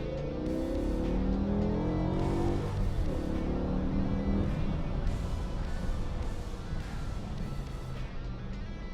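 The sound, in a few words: BMW E60 M5 V10 engine revving in a higher-RPM pull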